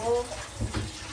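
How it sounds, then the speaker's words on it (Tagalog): Water is poured from a tap or container into a bowl while cooking, a brief splashing gush lasting under a second, with a voice heard briefly at the start. "Lagyan pa ulit natin ng tubig"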